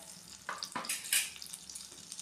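Butter melting in hot oil in a kadai gives a faint, soft sizzle with a few light stirring scrapes and crackles over about two seconds.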